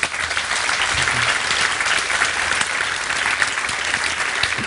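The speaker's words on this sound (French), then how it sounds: "je pense qu'ils méritent vos applaudissements" Dense, steady applause from a masterclass audience for the team, loud and sustained throughout with no pause and no speech over it.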